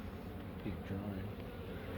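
Honeybees buzz continuously at a crowded hive, a steady low drone from many insects close by, with a large drone among them and a voice talking over it.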